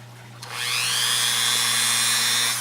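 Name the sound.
Dremel with cutoff wheel cutting a tube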